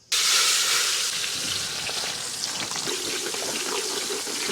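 Half a kilo of onions hitting hot oil with mustard seeds and fenugreek for a village-style tuna fish curry, a loud continuous sizzle and hiss close up with no talk.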